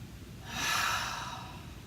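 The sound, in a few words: breathing in during postural exercise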